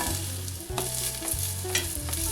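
A sourdough blueberry pancake sizzles in a hot pan with a steady close frying hiss, broken by a few scraping stirs or spatula touches, and no talking.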